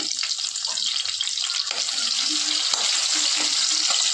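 Chopped onion frying in hot oil with dried red chilli and bay leaf, a loud, continuous close-up sizzle and hiss with occasional stirring scrapes and no speech.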